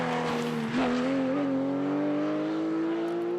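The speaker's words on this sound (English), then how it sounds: "arhout, who went off in the opening loop and who makes a small mistake here as well. Barely keeping the Porsche from going off, but he can continue" A Porsche GT rally car on a Belgian tarmac rally stage, its engine held in a steady high drone that rises gradually as it accelerates, with a brief squeal or blip near the start.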